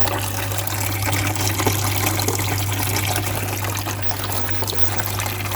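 Water pouring steadily into a pond filter container, a constant loud gushing and trickling with a low hum underneath, no talk.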